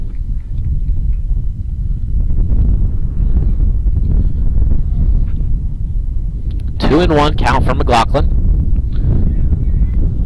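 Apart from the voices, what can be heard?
wind gusting against the microphone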